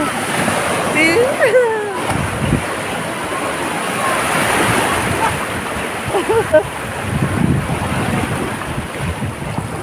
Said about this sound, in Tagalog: Oh! I'm getting wet! Oh my God! Big waves!